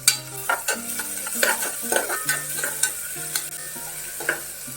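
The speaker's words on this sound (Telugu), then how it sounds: "ఆనియన్స్ అయితే వేసాను. ఒక్కసారి మిక్స్ చేసేసుకుంటాం." Onions are stirred in a hot pan for a brinjal khichdi, with a spoon scraping in repeated strokes over a light, continuous sizzle. Nobody speaks.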